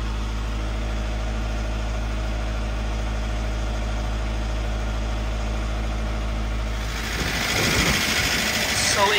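A diesel engine idles steadily and smoothly during injector zero quantity calibration, a constant low rumble without rattling, before its tone shifts and broadens into a rougher, noisier texture near the end.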